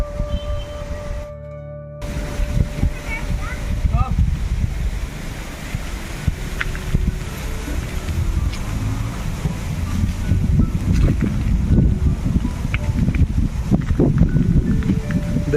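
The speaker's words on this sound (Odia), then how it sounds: "ଦେଖିବ ତ ପୁରା ପବନ ମାରୁଛି ଏବେ।" Strong, gusty wind blows outdoors under darkening skies before rain and roars loudly across the microphone. The rumble builds and surges for most of the stretch, with no talking.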